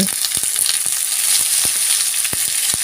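Fish curry being stirred in a hot pan with turmeric and salt, a steady loud sizzle with scattered scraping knocks of the spoon against the pan, close up and with no talking.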